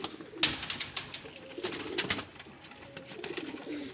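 Pet pigeons in a home loft coo in soft, repeated bursts, several calls overlapping at close range in a quiet setting with no talk.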